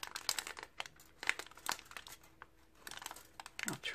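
Aluminium foil being handled close by, irregular bursts of crisp crinkling and crackling with brief quiet gaps between.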